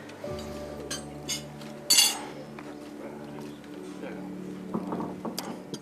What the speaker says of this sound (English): So could we please start by raising a glass for all of them?